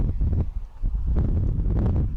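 Wind gusting across the top of a press box at a high school varsity baseball game at Armstrong, a steady low roar of buffeting microphone wind noise that swells and surges in loud waves throughout, with no talk.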